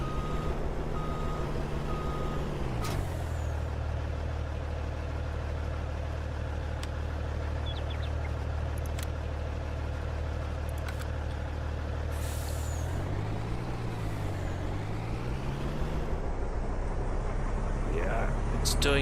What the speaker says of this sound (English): Just checking out an American truck here.